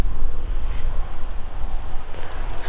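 Gusty wind buffets the microphone in uneven rumbling surges during an Oklahoma deer hunt in December, with a faint airy hiss behind it and no talking.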